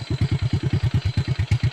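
A motorcycle engine on a rural road thumps in a steady, loud, close pulsing rhythm of roughly seven beats per second, heard alone without talk.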